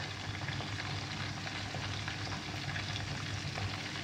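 Steady, close sizzling and crackling of pork ribs frying in hot oil until golden, continuous with no voices.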